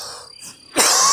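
A single harsh congested cough bursts out loud and close from someone who suspects COVID, preceded by quieter breathy throat sounds.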